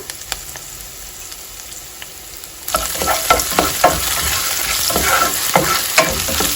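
Crushed ginger and green chillies hit a hot pan. A quiet start gives way to a sudden, loud sizzle, with stirring scrapes and spatters that continue close and steady to the end.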